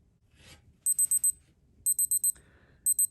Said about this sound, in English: And there is the alarm going off.